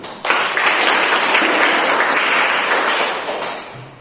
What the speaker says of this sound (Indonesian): Tepuk tangan untuk Dela